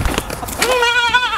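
A goat on a small farm gives one loud, close, wavering bleat after some brief rustling and handling noises.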